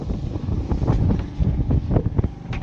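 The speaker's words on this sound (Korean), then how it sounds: "지금 거의 바람이 태풍 수준입니다" Strong typhoon-level wind at sea batters the microphone on a boat working large square traps and cuttlefish traps, producing loud, continuous gusty roaring and buffeting with no talk.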